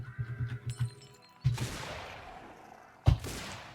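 Gunfire from the survival game Cataclysm: Dark Days Ahead, with a burst of rapid low thumps at the start followed by two louder single shots that decay into a lingering rumble.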